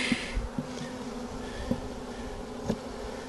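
A honeybee swarm buzzes continuously at close range during a swarm catch high in a tree, a steady droning hum with a few soft knocks and bumps over it.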